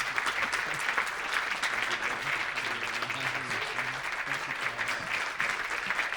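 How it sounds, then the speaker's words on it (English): Sustained applause from a large crowd for an honoree at a civil rights candidate forum, steady and full throughout, with scattered cheers rising now and then over the clapping. "give your right round of applause"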